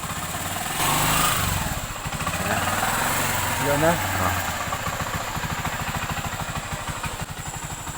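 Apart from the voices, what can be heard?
TMX125 motorcycle engine running after starter repair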